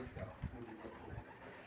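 Soft, low pigeon cooing, faint and muffled under a constant windy background hiss.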